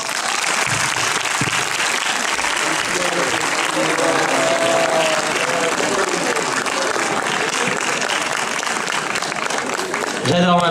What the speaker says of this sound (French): Sous ces applaudissements.